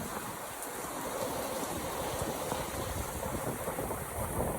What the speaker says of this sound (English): there came the wind and the rain.